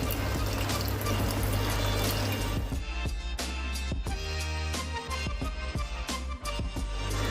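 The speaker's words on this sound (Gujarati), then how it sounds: "હવે આપણે એની અંદર 2 કપ જેટલું પાણી અંદર ઉમેરીશું." About two cups of water are poured into a simmering curry gravy for champakali gathiya shaak, a loud rushing pour that gives way to bubbling and scattered clinks.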